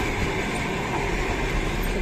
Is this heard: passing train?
yes